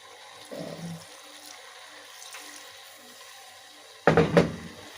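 Stock poured into a simmering tripe (matumbo) and tomato stew: a short liquid splash early, then quiet, then a louder, longer pour near the end.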